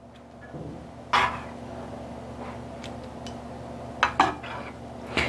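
Utensils clatter against pans while meat is layered for a low-carb PSMF lasagna with carnivore pasta and tomatoes. A few sharp, close clinks come in short groups, separated by quiet kitchen stretches.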